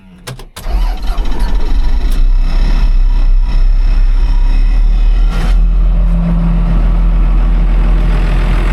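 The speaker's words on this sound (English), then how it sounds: "Listen to that old Cummins purr." An old Cummins diesel engine in an auction semi truck cranks and catches after a brief start, then settles into a loud, close, steady rumbling run that lasts the rest of the way.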